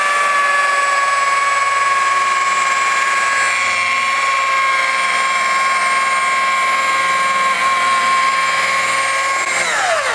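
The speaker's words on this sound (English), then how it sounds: "Euro wool pad on a rotary. It says to keep it between 12 and 1800 RPM. I'm currently at 1200." Rotary polisher with a Euro wool pad running at 1200 RPM, a loud, steady close whine with sustained tones, spinning down near the end; Meguiar's M110 polish is being tested.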